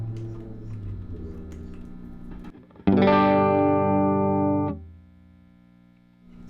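A Rickenbacker 325 V59 electric guitar played on its middle pickup alone: quieter picking gives way to one loud bright strummed chord that rings for about two seconds, then fades to a softer tail, with no voices.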